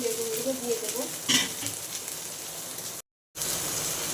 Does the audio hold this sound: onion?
yes